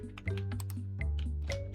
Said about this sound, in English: And now we can type in the command.